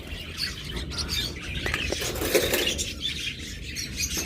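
Lutino lovebirds in a bird shop, scattered chirps and squawks mixed with bursts of wing flapping and cage rustling, moderately close and continuous; no talking.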